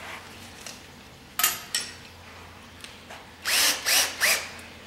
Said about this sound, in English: I always like to pre-drill the holes